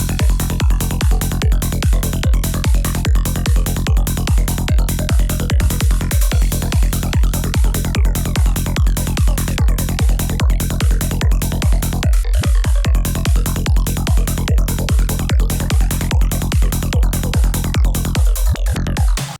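A synthesizer patch of wobbling, psychedelic particles with delay pulses in a fast, steady rhythm of dense, bright bursts, loud and continuous throughout, with a few brief dips and no voices.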